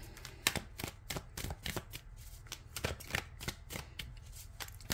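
Tarot cards are shuffled close up, giving a quick run of crisp riffling and snapping bursts in an uneven rhythm, with no talking.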